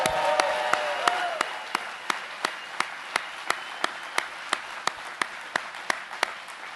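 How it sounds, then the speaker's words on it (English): Crowd applause for the Milbanks, owners of a company nearing 100 years old, at a vice-presidential speech event in Kansas City, Missouri; a steady wash of clapping with sharp, evenly spaced beats running throughout. "How about a big round of applause for the Milbanks?"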